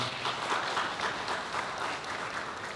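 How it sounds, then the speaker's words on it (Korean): Wedding guests in a hotel banquet hall applaud, a dense steady wash of many hands clapping throughout, fairly distant and even. "큰 박수 부탁드리겠습니다."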